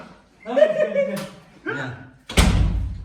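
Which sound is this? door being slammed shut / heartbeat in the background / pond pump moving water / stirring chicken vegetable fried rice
door being slammed shut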